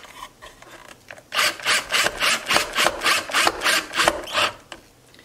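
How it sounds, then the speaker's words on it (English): A short screw driven into mandolin wood gives a run of about ten rhythmic, rasping turns, close and fairly loud, then a brief quiet stop. "I'll go ahead and drive this short screw in here."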